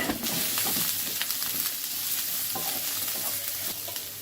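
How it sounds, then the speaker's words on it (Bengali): Sliced onion and two garlic cloves with green chilli frying in a pan for a black cumin mash, a loud steady sizzle with scraping stirs throughout, close up and without talk. "পেঁয়াজ রসুন একদম লাল করে ভেজে নিতে হবে।"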